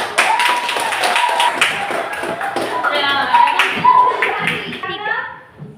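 A classroom gives a student group a round of applause, with many hands clapping in a dense patter, mixed with children's voices and chatter nearby.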